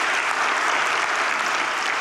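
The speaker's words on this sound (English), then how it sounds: "Yeah, you can clap for that," A church congregation at a Sunday morning service claps together in a dense, steady round of applause, loud and close throughout.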